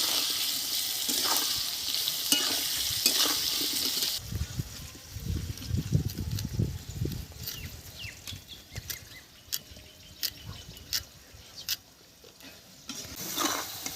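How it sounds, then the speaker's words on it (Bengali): Small diced potatoes, seasoned with salt and turmeric, fry in a pan. A soft sizzle runs first, then clattering and scraping from stirring joins in with sharp clicks and knocks, all close and moderately quiet, with no voices. "আলুগুলো ভালো করে ভেজে নেব।"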